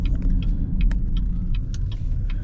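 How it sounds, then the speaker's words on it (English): Car passing on a road near a golf course in Prince Edward Island, a steady close low rumble of tyres and engine throughout, with small scattered clicks and rattles on top. "You can see this car coming out here."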